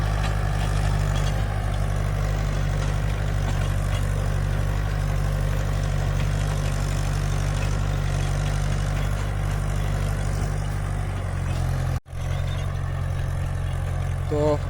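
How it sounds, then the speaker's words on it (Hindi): A tractor drags a rotavator through a waterlogged field, its engine labouring hard in a loud, steady low drone that barely wavers, with a brief dip near the end. "लेकिन ट्रैक्टर दुगनी ताकत से चलाना पड़ रहा है"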